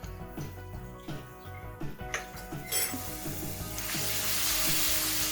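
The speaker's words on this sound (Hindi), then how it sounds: "अब हम इसमें तकरीबन 1 टेबलस्पून के करीब चॉप्ड गार्लिक ऐड करेंगे।" Chopped garlic, about a tablespoon, dropped into roughly half a cup of hot oil for Chinese fried rice, giving a steady sizzle that swells and intensifies into a dense bright hiss, with a few clinks of utensils on the pan.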